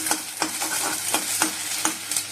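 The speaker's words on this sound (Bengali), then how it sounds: "ডিমটা ভালো করে ভেজে নেবো" An egg frying in a pan alongside potatoes, a steady hiss of sizzling oil broken by regular scraping strokes of a spatula, close and clear with no voices.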